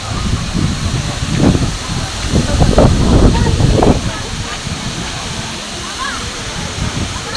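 Water pours down Courtallam's Old Falls at reduced flow, a constant rushing splash with surges in the middle as people talk over it close by.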